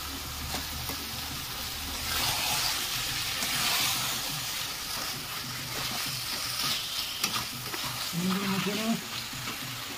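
Chicken leg pieces fry in a bubbling spice masala for a Bengali chicken feet curry, a steady close sizzle with scraping stirs throughout and a faint voice briefly underneath.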